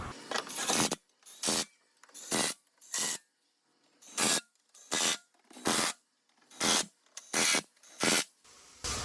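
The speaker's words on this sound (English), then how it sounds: "now we're going to tighten down all of these little torque screws" Triple-square socket driving small screws into the metal undercover of a Volkswagen Beetle with a DDSA engine, heard as about a dozen separate short rasping bursts of a ratchet working at a steady, evenly spaced rhythm, close and fairly loud, with no voice.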